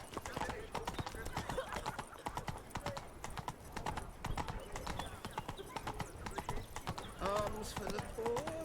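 Roach, Geralt's horse in The Witcher 3, trots with a rapid, continuous clip-clop of hooves, accompanied by a brief whinny and in-game chatter over the top.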